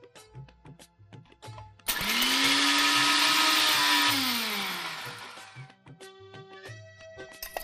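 A kitchen mixer grinder whirs loudly for about three seconds as it crushes dry ginger powder, asafoetida and sugar into a spice mix, then winds down. Light background music plays around it.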